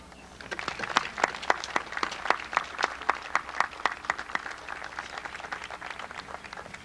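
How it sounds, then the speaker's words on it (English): Audience applause at the Beverly Hills High School Class of 1992 commencement ceremony, a steady patter of many claps with sharper individual claps standing out, moderately distant and without speech. "Please join me in applauding them."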